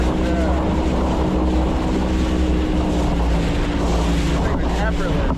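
Twin 450 and 500 hp Mercury racing outboard motors push a boat along, a loud, steady, unbroken roar mixed with heavy wind buffeting throughout.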